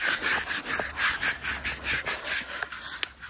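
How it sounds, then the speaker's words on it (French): A brush strokes an animal's coat in repeated rhythmic rubbing passes, close and fairly quiet, with one sharp snort-like sound near the end; no talking. "Petit coup de brosse, non?"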